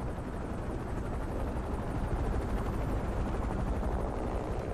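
A police helicopter circles overhead in Need for Speed Unbound, a loud, constant, rumbling rotor roar with a rapid chopping pulse filling the whole stretch, no talk.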